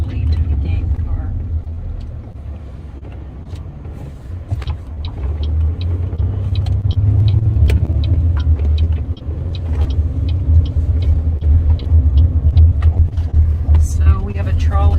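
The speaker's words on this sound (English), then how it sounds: "So we have a trolley system here that I'm riding on top of right now." A downtown trolley in Oklahoma City rumbles steadily underneath, with a low engine drone, road noise and intermittent clicks and rattles, while a person talks over it from on top of the car.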